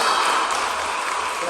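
A church congregation applauds after a sermon, a brief burst of loud, dense clapping that fills the room with no voices on top.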